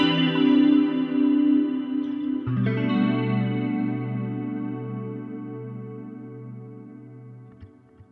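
An electric guitar through a Line 6 Helix LT modeling processor plays sustained chords and notes with a shimmering chorus, smooth compression, and echoing delay trailing into a spacious reverb wash, fading gradually.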